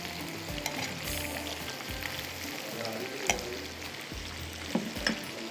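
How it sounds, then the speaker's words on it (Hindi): Prawns sizzle steadily in a hot pan with oil, making a constant crackling fry with occasional stirring clinks and scrapes, close up and moderately loud with no talk. "ये फ्राई हो रहे हैं, इसको खूब अच्छा खूबसूरत सा कलर देंगे, क्रिस्पी सा करेंगे"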